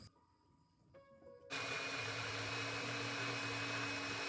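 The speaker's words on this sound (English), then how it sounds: "The reason I'm putting the orange in the blender is so I can get all the juice out" A blender blends a whole orange for juice. Faint mechanical clicks come first, then the motor starts abruptly and holds a loud, steady whirring drone to the end.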